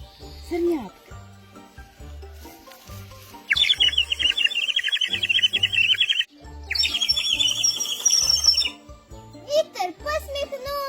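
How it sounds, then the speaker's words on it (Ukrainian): Baby birds chirping in a nest during a children's theatre studio forest fairy-tale play, two long bursts of bright high chirping alternating with stretches of children talking and quieter stage sounds. "А це пташата у гніздечку"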